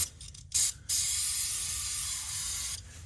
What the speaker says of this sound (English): I'm trying to get some brake cleaner. I'm just going to give this a light spray here.